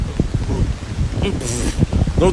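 Wind gusts buffet the microphone with low rumbling rustle while a person talks close by.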